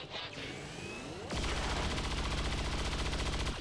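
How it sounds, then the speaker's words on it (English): Sustained rapid automatic gunfire in XCOM 2, fired at an already fallen body; after a short lead-in of game sounds and a rising whine, a loud continuous burst of rapid shots runs steadily to the end. "You're just shooting a corpse now."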